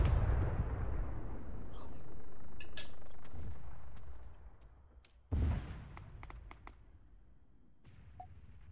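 A tank firing in the video game Arma 3: a heavy boom rolls off into a long fading rumble, then a second sharp blast follows, with faint clinks in between and no talking.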